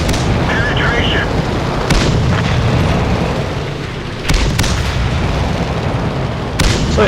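Cannon shots from an M24 Chaffee light tank in a tank video game thump out as several heavy booms, spaced a few seconds apart, over a constant rumbling engine bed.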